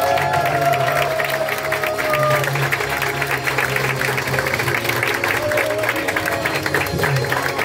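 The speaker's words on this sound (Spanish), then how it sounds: "un aplauso es para ellos." Audience applause for a team of sixty at the grand final of an improv comedy competition, continuous crowd clapping with some cheering under a sustained musical tone and background voices.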